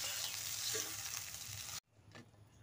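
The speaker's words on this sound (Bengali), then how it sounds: "ভাতটা ভাজা করে নিই চটপট" Rice being stir-fried in a pan, a dense steady sizzle with scraping from stirring that cuts off abruptly, followed by a fainter tail of kitchen noise.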